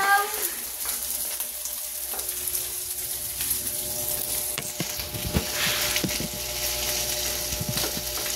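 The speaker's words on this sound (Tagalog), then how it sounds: "Halo ng kaning sinangag" Fried rice (sinangag) is stirred in a frying pan at home. A steady close sizzle runs throughout, and scraping spatula strokes grow more frequent in the second half.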